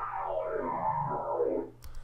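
Synthesized Transformers-style effect built in Reason 4 with a fast modulation rate and pitch pushed high, a warbling, buzzy electronic whir sustained for about two seconds, then dropping off with a brief burst at the end.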